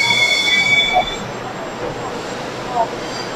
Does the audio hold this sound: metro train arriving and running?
yes